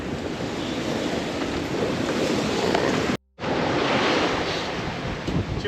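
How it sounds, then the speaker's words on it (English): Strong wind and breaking waves rush around a sailboat at sea under a small craft advisory, a loud, steady roar with wind buffeting the microphone and a brief dropout partway through. "The wind has come down about 5 knots, and it's still windy and breezy."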